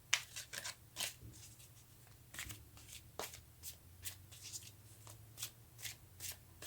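Tarot cards being shuffled by hand, a close, quiet series of crisp riffling and flicking bursts in an irregular rhythm, with no talking.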